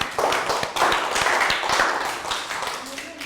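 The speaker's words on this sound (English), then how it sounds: "Round of applause for Annette." A small classroom group claps for a student, a brief burst of quick, uneven hand claps under overlapping voices.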